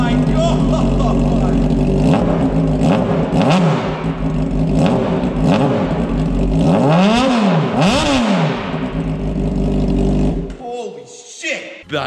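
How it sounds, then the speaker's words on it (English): A Honda CBR600 sport bike with no muffler revs hard right up close, its raw, blaring engine note rising and falling in repeated throttle blips before cutting away sharply near the end. "let's get a sound clip of what this thing sounds like with no muffler on it whatsoever"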